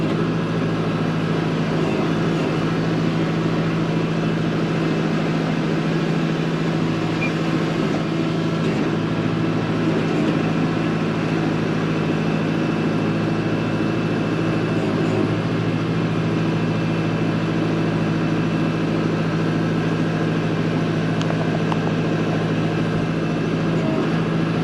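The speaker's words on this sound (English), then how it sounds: "the L6060 is a little quieter. You're going from a 3-cylinder engine to a 4-cylinder. With that turbo, it has just a little different sound to it." Kubota L6060 tractor with a 4-cylinder turbo engine idling and running at a steady drone, a constant low hum with a faint turbo whine, close and unbroken, no talking.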